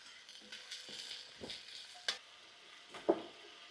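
Vegetables sautéing in a pot for Italian wedding soup: a soft, steady sizzle with occasional stirring scrapes and light clinks of utensil against the pot, faint and close.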